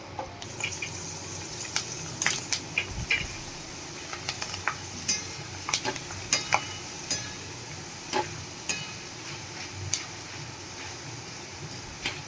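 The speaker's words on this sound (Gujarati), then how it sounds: "तो हवे आपणे आ बटेटानी कतरी तरी लेशुं।" Potato slices fry quietly in oil, a soft sizzle broken by scattered sharp pops and crackles at an irregular pace.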